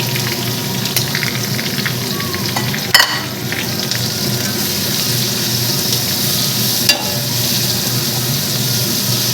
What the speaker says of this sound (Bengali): এবার আমি কড়াইতে দিয়ে দিয়ে দেবো পেঁয়াজগুলো দিয়ে দেবো পেঁয়াজ কুচি রেখেছি